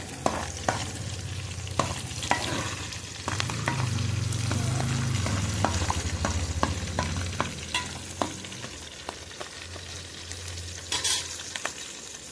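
Fenugreek leaves and curry leaves fry in a pan while being stirred, a continuous oily sizzle punctuated by repeated scraping clicks of the spoon, close up with no talk.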